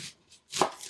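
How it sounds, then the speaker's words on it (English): A knife cuts through an onion on a board, quartering it with a couple of quick chops: two faint early strokes, then one louder, closer crunching cut, with no talking. "pretty much quarter the onion"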